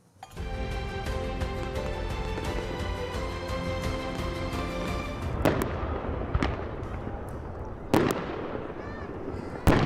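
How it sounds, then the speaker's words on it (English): Fireworks display over downtown Spokane on New Year's, a dense rumbling wash of bursts followed by several sharp, loud bangs standing out near the end. "last night, a beautiful fireworks display lit up the sky over downtown Spokane"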